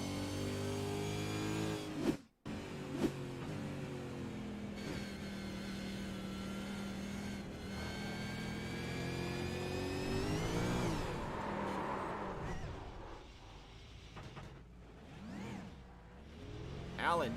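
An iRacing race car at Watkins Glen International accelerates lazily back onto the track, its engine rising in a steady whine that climbs in pitch, with other cars passing and a brief dropout early on.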